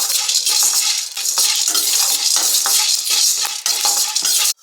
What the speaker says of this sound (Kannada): ಈಗ ಚೆನ್ನಾಗಿ ಫ್ರೈ ಮಾಡ್ಕೊತಾ ಇದ್ದೀನಿ ಲೋ ಫ್ಲೇಮಲ್ಲಿಟ್ಟು ಫ್ರೈ ಮಾಡ್ಕೊಳ್ತೀನಿ